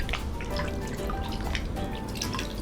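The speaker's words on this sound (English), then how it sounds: "then rinse them well to remove any remaining starch" Peeled potatoes get rinsed under running water in a kitchen, a steady splashing and dripping stream close by with no speech.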